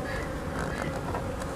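Honey bees buzz in a steady, soft drone at an apiary. The hum is close and continuous with faint outdoor background.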